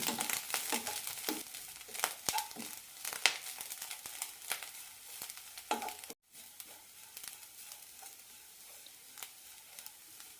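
Grated coconut roasting over a high flame in a pan, a steady sizzle broken by repeated scraping stirs, fairly close and continuous with a brief dropout midway.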